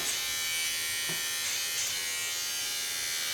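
Electric hair clippers trim hair during a home haircut, a loud, steady, close high-pitched buzz that dips slightly as the blades pass through hair.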